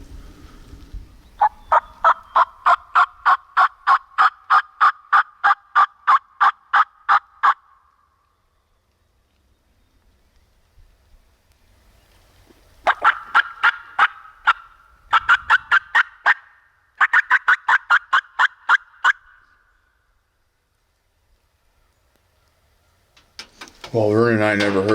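A wild turkey in the woods calls in a long run of rapid, evenly pulsed notes, then falls quiet before several shorter bursts, with a voice briefly at the end.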